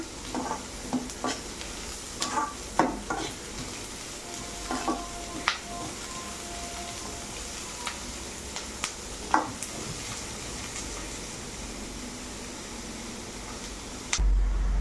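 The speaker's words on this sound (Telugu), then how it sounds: "కొంచెం కలుపుతున్నానండి అటు ఇటు" Chutney ingredients sizzle in a hot pan while a spoon stirs them, with irregular scraping clicks over a steady frying hiss, close and moderately loud, with no voices.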